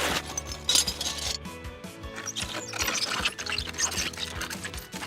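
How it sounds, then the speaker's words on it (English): Liquid sloshes and gurgles with clinking, glassy tones and mechanical clicks, steady and fairly close, with no voices; a movie sound effect, pitched down to sound thicker. "The mixer's gonna pitch me down and make this liquid sound thicker."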